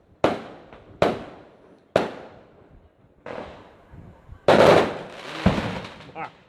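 Firecrackers go off outside in a string of sharp, loud bangs about a second apart, each trailing off in a short echo, with a denser burst of cracks near the end.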